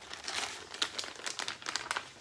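Crinkling plastic bag from a Tenicor Certum Lux holster package, a steady run of crackly rustles and sharp crinkles as it's handled close by, with no talking.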